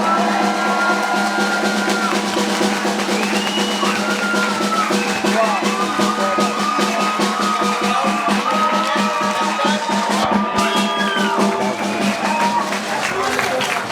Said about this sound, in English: please make some noise for the last student, Abigail.